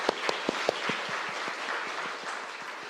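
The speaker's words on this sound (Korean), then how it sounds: "우리 하나님께 영광과 감사의 박수 한번 올려드리겠습니다." A church congregation applauds during a Sunday service, starting with a few sharp, separate claps near the microphone that swell into a steady, moderately loud round of clapping from a larger group.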